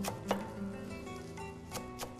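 A knife finely chopping fresh dill, parsley and mint on a board, a few quiet, scattered sharp taps against a soft background hum, close but faint.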